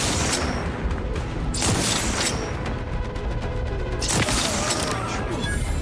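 Sniper rifle gunfire in The Outer Worlds 2, a few heavy, widely spaced shots ringing out over a dense, constant game soundscape.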